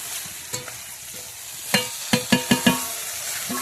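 Mixed vegetables for Bengali sukto being stirred in hot oil, a soft continuous sizzle broken by a quick series of sharp spatula knocks and scrapes against the pan toward the end.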